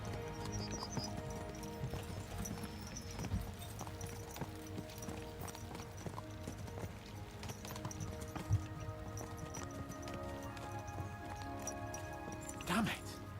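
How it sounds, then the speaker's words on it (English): Horse hooves clip-clop in a steady, fairly quiet rhythm in Kingdom Come: Deliverance II, running throughout beneath talking voices and background music, with a louder snort near the end. "Let's really spur these horses on, eh?"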